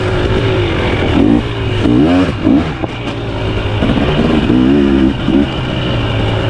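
A 2023 KTM 300XC TBI two-stroke dirt bike is ridden through the woods at Crow Canyon, its engine loud and close, buzzing and rising and falling in repeated revving bursts.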